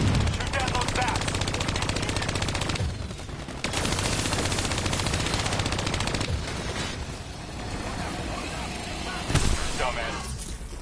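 Dense automatic gunfire rattles almost nonstop in a Black Ops 3 campaign mission, loud and close, broken by a few short pauses and a sharper blast near the end, with voices talking underneath.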